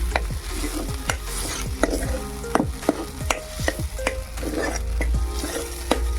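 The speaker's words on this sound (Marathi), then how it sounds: "तेलामध्ये म्हणजे हे दाणे छान असे भाजून घ्यायचे" Pigeon pea grains roasting in oil in a pan, with a steady close sizzle and a run of sharp spatula scrapes and stirs about every half second throughout.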